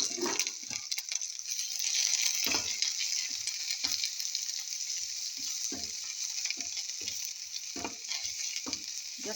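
Eggplant cubes fry in a little oil with a steady, bright sizzle, broken by repeated soft knocks and stirring scrapes in the pan, close and continuous throughout.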